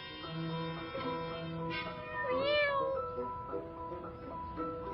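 A cartoon cat meows several times in quick succession, drawn-out and wavering, one rising into a higher whiny cry, fairly close.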